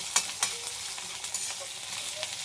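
Chopped ginger frying in hot oil, a bright continuous hiss and sizzle with a few sharp crackles and quick stirring scrapes, close and fairly quiet, no voices.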